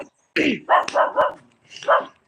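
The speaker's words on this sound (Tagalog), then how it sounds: "Ingay ng aso ko." A dog barks several times nearby, a quick run of three or four sharp barks followed by one more after a short pause.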